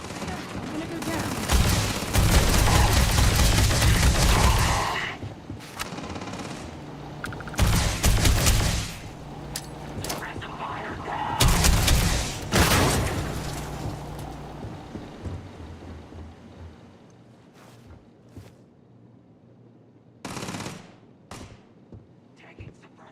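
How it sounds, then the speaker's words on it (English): Bursts of sustained automatic gunfire from the sci-fi game Starfield, loud and dense in long volleys separated by brief pauses, with sharper isolated shots near the end, under radio-style character chatter. "Taking suppressive fire."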